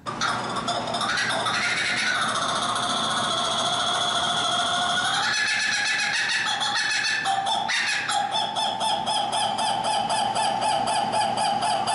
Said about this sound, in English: It sounds like it could be monkeys or laughter, but it's actually a kookaburra.